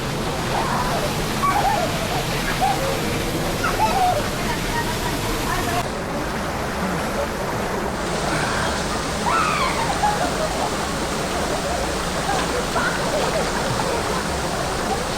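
Steady rushing roar of a waterfall and stream at Mahogany Falls in Cavite, a forest river site, continuous and fairly loud throughout, with faint voices in the background.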